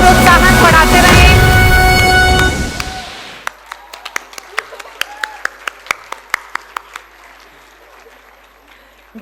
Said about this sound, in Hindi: कृपया तालियों से बच्चों का प्रोत्साहन बढ़ाते रहें।